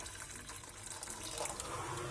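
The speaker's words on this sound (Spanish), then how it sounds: "Vertéis un poquito de agua caliente" Hot water pours steadily into a small pot beneath a bowl of pizza dough, giving a faint, continuous splashing trickle that runs on its own for about two seconds with no talking.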